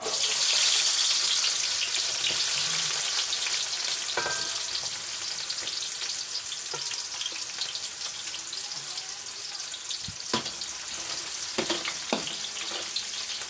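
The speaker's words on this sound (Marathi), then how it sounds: "कंदे शिजत है आहेत कांद्याबरोबर त्याचा कढीपत्ता पण घालत है" Onions frying in a pan for chivda, giving a loud, steady hiss of hot oil that eases slightly over time, broken by a few sharp clinks and stirring scrapes near the end.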